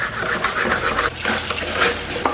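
Angel Juicer parts being washed and scrubbed under running water, a steady wet swishing with brief scraping strokes close up, no talk.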